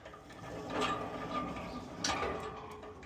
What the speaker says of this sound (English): So we'll just close that and lock it back in by going anti-clockwise.